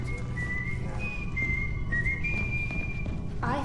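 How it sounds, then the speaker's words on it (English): A person whistles a slow tune of held, sliding notes in the Metro Awakening VR game, the melody carried clearly over a low rumbling background without speech. "I thought I heard whistles."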